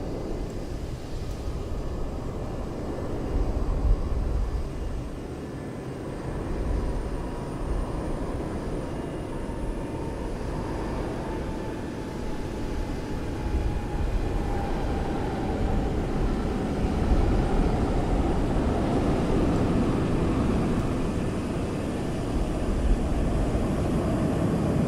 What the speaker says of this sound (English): APU is pulling up